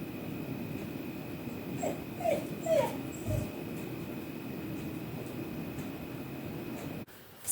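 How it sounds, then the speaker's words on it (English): A dog left alone by its owner gives several faint, high whimpers and whines over a steady background hum, followed by a brief thump near the end. "He whined a little bit when I went"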